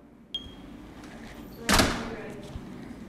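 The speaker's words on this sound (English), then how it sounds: "Whoa, slamming doors." An interior door slams once with a loud, sharp broadband bang midway through, preceded by a smaller knock and followed by a faint thud, set against quiet room noise in a home where a shy dog is being trained.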